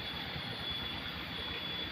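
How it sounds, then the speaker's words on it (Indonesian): Chainsaw droning steadily at a distance in a forest, a continuous roar with no voices. "di sana ada suara semsau ya, agak berisik"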